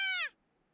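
A cat gives a single loud, clear meow near a ladder. The cry falls in pitch and lasts about a third of a second, then cuts off into near silence.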